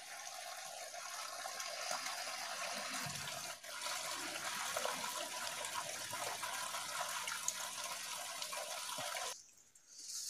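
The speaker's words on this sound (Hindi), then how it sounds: "ट्रैकिंग के दौरान आपको इस तरह झरने की आवाज भी सुनाई दे सकती है" Waterfall beside a snowy mountain trekking trail, a steady, dense rush of falling water that runs loud and unbroken for most of the clip before briefly dropping away near the end.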